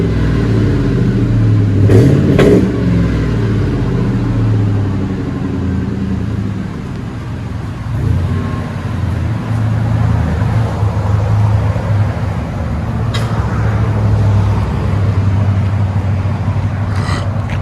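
Ford F-150 with a 4.6L V8 and Flowmaster exhaust, its stock muffler cut off, revving loud and close, a deep rumbling idle with a couple of throttle blips that rise and fall.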